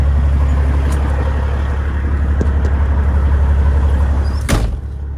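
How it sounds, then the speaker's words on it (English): A heavy wrecker tow truck's diesel engine idles loud and steady nearby while backing up to be unhooked, with a brief clank or hiss burst near the end. "we're going to back this thing up here and get this truck unhooked"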